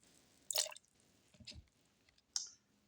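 Water is poured onto a teaspoon of common salt in a few short, quiet splashes and drips separated by pauses.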